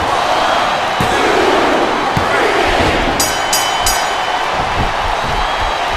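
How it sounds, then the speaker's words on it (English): A large crowd roars steadily and loudly throughout, punctuated by a few sharp thuds and slams, in the wrestling video game WWE SmackDown vs. Raw 2007 during a women's Ironman match. "Sounds like this crowd's got something on their minds, King."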